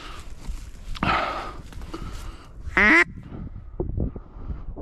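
Ducks quack close by during an evening duck hunt, a short loud burst of quacks after some rustling and footsteps, with brief scuffling sounds around them and no speech.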